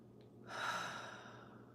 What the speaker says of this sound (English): Exhale through your mouth.